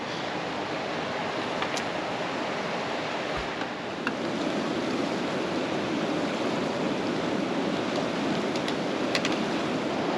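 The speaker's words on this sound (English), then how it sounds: "the white noise of the river" Constant hiss of rushing water, steady and unbroken like a river flowing nearby, with a few faint clicks scattered through.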